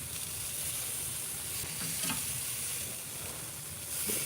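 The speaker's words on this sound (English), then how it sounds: "Get a little sear on it, that what we call Maillard reaction." Meat sizzles steadily as it sears over a live fire on a Primo grill, a continuous close frying hiss with occasional louder pops and no talking.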